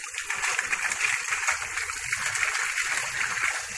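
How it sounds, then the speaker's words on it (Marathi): Pieces of crab being rinsed in water, a steady close splashing and trickling wash that runs without pause, with no voice heard. "हे आता मी धुवून तुम्हाला दाखवते."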